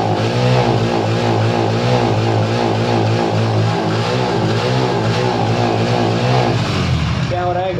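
A Hero Splendor Plus motorcycle, running after a clutch plate change, revs loudly up close with a rising and falling engine drone in repeated waves, then drops away at the end as a voice speaks.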